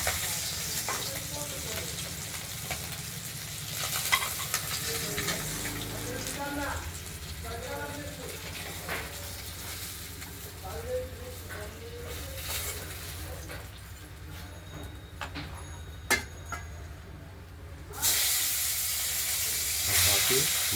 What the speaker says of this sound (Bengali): মাছটা কটা ভেজে নেব